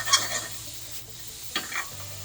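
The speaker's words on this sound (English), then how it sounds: "starting to get it to caramelize. Give it a little shake." Butternut squash caramelizing in a pan, a faint steady sizzle with a few scraping stirs and a light clatter as the pan is shaken, no voices.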